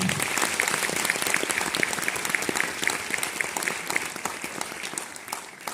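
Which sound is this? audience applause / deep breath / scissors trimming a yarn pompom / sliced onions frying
audience applause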